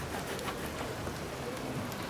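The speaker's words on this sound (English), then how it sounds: "So, we are in May. Raining like crazy." Heavy rain pours steadily in the village-building video game Patron, a dense, even hiss of downpour that lasts the whole stretch with no voices over it.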